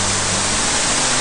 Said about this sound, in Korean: 저게 바로 유한천 폭포입니다.